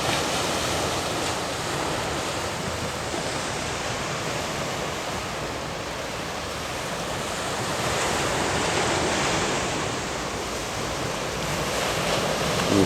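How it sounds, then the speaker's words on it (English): Ocean surf rolls in at Varadero beach in Cuba as a continuous broad wash of breaking waves, swelling and easing softly, with some wind buffeting the microphone. "The surf rolls in."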